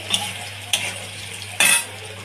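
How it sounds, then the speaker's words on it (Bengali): Potato pieces fry in a pan with a soft continuous sizzle, and three distinct scraping clinks of a spatula or spoon against the metal stand out loudly over it. "আলুগুলোকে ভাজছি, ভেজে নিয়ে তুলে রাখবো"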